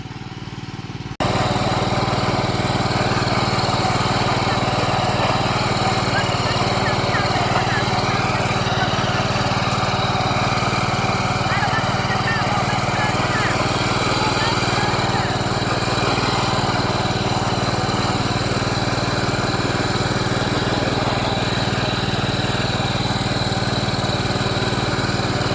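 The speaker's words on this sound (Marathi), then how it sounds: "बघा रोटर मारायचं काम चालू आहे" A tractor drives a rotavator through a farm field, its engine holding a loud, steady drone with a constant churning roar that runs unbroken for the whole stretch after a quiet start.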